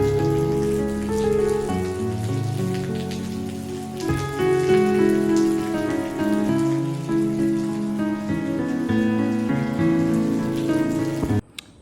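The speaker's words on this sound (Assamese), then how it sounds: "এইবোৰ দেখিছে কিমান বৰষুণ দি আছে" Heavy rain in Jorhat, Assam, falls as a sustained, fairly loud patter on a surface, steady for about eleven seconds before cutting off abruptly, with no voices.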